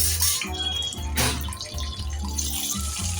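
Hot oil sizzles and crackles steadily as a tempering with curry leaves fries, with small pops over a low background hum; no one speaks.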